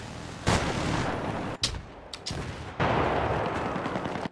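Explosions and bursts of gunfire in Battlefield 3 on the Noshahr Canals map, with a claymore mine blast among them: several sharp broadband cracks and booms at irregular intervals over a steady loud battle din.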